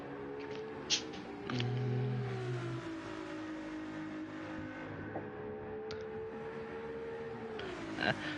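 Racing car engines drone steadily through a sim race at Monza, their pitch rising and falling as one car moves up to overtake another, fairly faint under a steady background.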